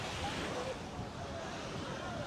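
Gentle ocean waves wash steadily on a private-island beach at CocoCay, a soft continuous surf hiss blended with light wind noise on the microphone, no distinct breaks standing out.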